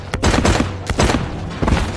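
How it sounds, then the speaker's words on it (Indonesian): Loud, close bursts of rapid gunfire from a film shootout scene, several dense volleys cracking back to back across two seconds with no speech. "Dan ketika Lee menyuruh si ketua untuk menembak Dewi"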